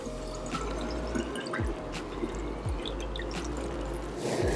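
Strained fruit punch Kool-Aid, decades past its date, trickles and drips back into a glass vase, with a steady liquid pour and scattered splashy drops throughout.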